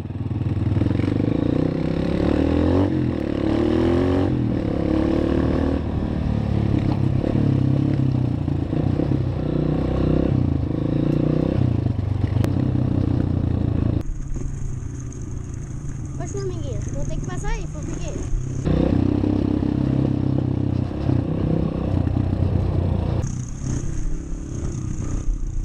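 A Yamaha TTR 125 dirt bike rides a muddy trail with people talking throughout, its small engine buzzing and revving unevenly, with clattering and scraping, then dropping away midway before returning.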